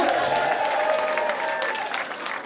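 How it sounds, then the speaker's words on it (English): Audience at a live mod band concert in Brighton applauds a sold-out show, dense continuous clapping mixed with cheers and faint voices, loud and steady throughout. "Please give yourselves a massive round of applause."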